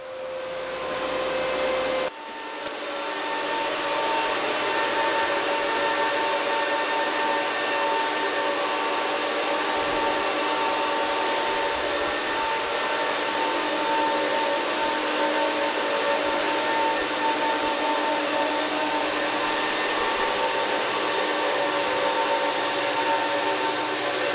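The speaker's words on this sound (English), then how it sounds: "these ASICs are really loud" Steady, loud roar of crypto mining ASIC machines with a constant whine and fan-like hiss, running without pause after a brief quieter start; no talking.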